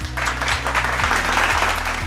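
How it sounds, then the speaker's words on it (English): Brief burst of audience applause at a hospitality careers talk, steady clapping over a low humming background throughout. "Let's give her a round of applause."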